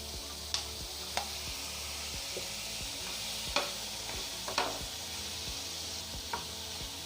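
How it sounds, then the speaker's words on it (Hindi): Boiled macaroni with chicken, vegetables and soy sauce is stir-fried in a pan, giving a soft steady sizzle punctuated by occasional sharp scrapes and taps of the spatula. "और अब हम इसे फ्राई करना शुरू कर देंगे।"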